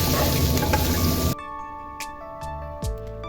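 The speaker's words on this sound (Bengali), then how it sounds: "আলুটা লবণ আর হলুদ দিয়ে হালকা করে এপিট করে ভেজে নিয়েছিলাম" Potato slices fry in oil with turmeric and salt, a dense crackling sizzle for about a second before it cuts off abruptly, leaving a quiet hum and a few faint clicks.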